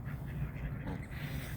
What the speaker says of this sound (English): Those ducks are still fighting.